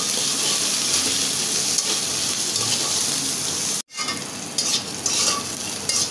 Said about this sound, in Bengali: আমি এখন রসুন দিয়ে দিলাম, পেঁয়াজটাও দিয়ে দিলাম, একসাথে ভেজে নেব।